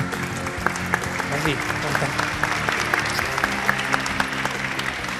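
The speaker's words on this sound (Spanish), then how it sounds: "Ahí está Carolina, un aplauso para ella." Audience applause at a science and society congress for a molecular biologist, dense sustained clapping from a large hall with a few distinct sharp claps standing out, and a voice briefly heard.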